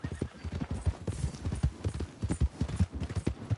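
A horse gallops in the Red Dead Redemption video game, its hooves pounding in a quick, uneven clip-clop rhythm close by.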